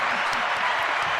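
Studio audience clapping for podcast guests, a steady dense patter of applause filling the whole moment at even loudness with no voices.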